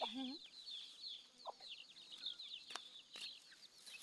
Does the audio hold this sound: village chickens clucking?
yes